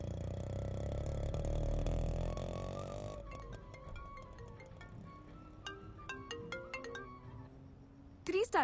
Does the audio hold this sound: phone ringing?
yes